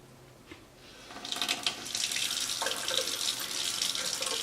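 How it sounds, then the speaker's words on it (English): A makeup brush is dipped and moved in warm running water at a bathroom sink, with a steady faucet stream rising after a quiet start and soft splashing throughout, close and moderately loud. "I'm going to stick my brush in the water and I'm going to angle it down the whole time that it's in the water"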